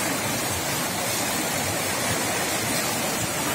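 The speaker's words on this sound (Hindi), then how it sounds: "ये है नाला।" Floodwater rushes loudly through a swollen drainage channel during flooding in Uttarakhand, a dense, steady roar of churning water filling the whole clip without pause.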